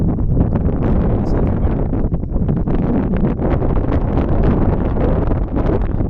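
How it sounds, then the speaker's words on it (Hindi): Strong wind blows steadily across an open mountain ghat road near Panchgani and Meenavali, a loud continuous rumbling gust noise buffeting the microphone for the whole stretch, with no voices. "ठंडी एकदम मस्त चिल्ड हवा चल रही है।"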